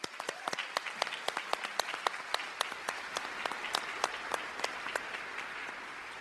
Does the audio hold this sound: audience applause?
yes